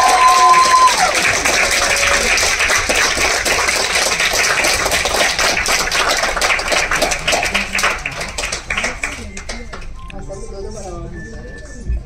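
A theatre audience at an acting-academy event applauds loudly in a dense, steady roar of clapping with voices mixed in, thinning out over the last few seconds.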